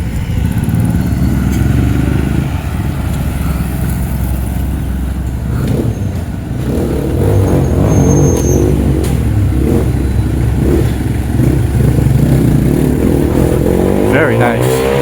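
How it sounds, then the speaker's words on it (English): Street traffic in Tola, Nicaragua rolls past up close, with motorcycle engines buzzing and revving and cars rumbling by in a steady loud stream. "As we navigate our way through the traffic here."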